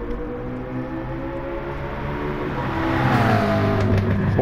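McLaren 650S GT3 with a 3.8-litre V8 biturbo engine in Gran Turismo Sport at Bathurst, Australia, droning steadily and then revving harder and louder in the final second and a half, with no talk.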